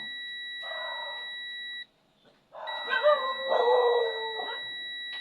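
A continuous high electronic tone from a multimeter continuity buzzer beeps steadily while testing a motorcycle stator, cutting off briefly before resuming, while a voice speaks over it.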